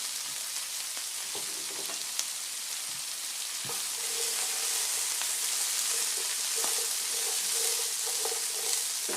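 Food sizzles gently in a pan while it is stirred. Soft frying crackle runs throughout, with scattered utensil clicks and scrapes near at hand.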